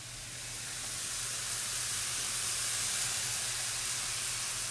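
Mushrooms sear in a hot pan, giving a steady, close sizzling hiss that holds evenly throughout with no talking.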